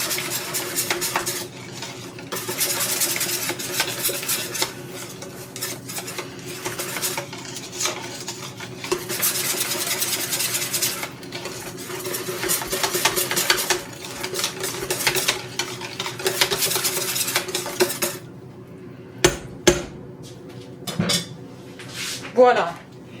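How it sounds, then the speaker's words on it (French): A whisk or spoon mixes cannelé batter with rum in a bowl, giving long stretches of quick, busy scraping and clinking, then a few isolated knocks against the bowl near the end. "Et on finit de mélanger le tout"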